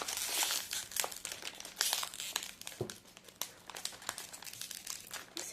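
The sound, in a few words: opening blind box packaging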